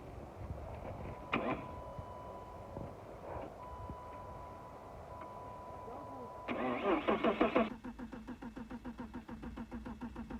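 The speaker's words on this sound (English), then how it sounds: "whenever you're ready, I'll start cranking it again" A BMW E36 drift project car's starter cranks the engine in a short burst of rapid, loud chugging, followed by rhythmic pulsing as the engine catches or keeps turning, with a quiet background and faint voices earlier.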